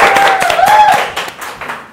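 Brief scattered clapping from an audience at a Thai fan talk event, greeting a song, with a sustained whistling tone running through the claps.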